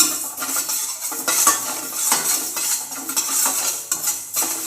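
Fenugreek seeds dry-roasting in a pan without oil while being stirred, close metallic scraping and clinking of a spoon against the pan with a faint crackle and no voices.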